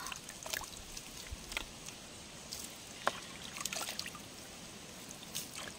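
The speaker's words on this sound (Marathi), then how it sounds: "पाणी पिण्यासाठी पाणी काढतंय. भरला भरला भरला भरला भरला." Water drawn by hand from a natural spring in the Konkan countryside, with quiet trickling and pouring, scattered sharp splashes and clinks, and a soft steady flow in the background.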